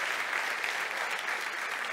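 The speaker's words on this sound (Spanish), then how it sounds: "Un aplauso para ella que hace un papel ahí muy importante." Audience applause at a technology conference, a steady, even patter of many hands clapping, moderately loud and continuous for a couple of seconds.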